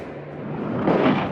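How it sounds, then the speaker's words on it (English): A massive bridge segment collapses into the sea, sending a huge explosion of water skyward; a deep, rumbling roar swells and peaks about a second in, heavy and muffled. "A huge explosion of water blasted 30 meters into the air."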